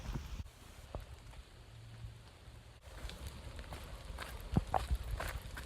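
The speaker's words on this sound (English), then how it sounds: "And now comes the rain." Rain patters on an Appalachian Trail stretch between Virginia and Harpers Ferry, a soft steady wash with scattered drops and footsteps crunching along, growing busier toward the end.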